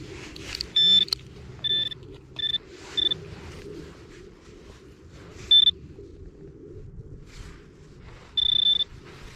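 A metal detector sweeping over a foil target in a Polish field sounds a series of short, clean electronic tones, several brief bursts and one longer beep near the end, over low outdoor rumble and handling noise.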